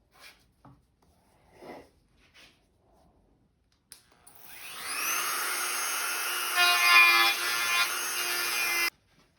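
A few soft knocks and scrapes, then a high-pitched paint-soaked Dremel rotary tool spins up and grinds steadily against wood for several seconds before cutting off abruptly.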